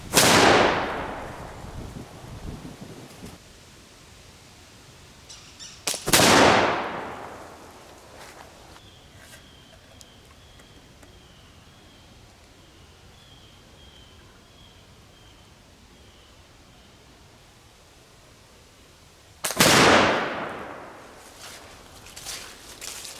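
A flintlock pistol fires three sharp, loud shots into a pine board, each a single crack with a short decay, separated by long stretches of quiet.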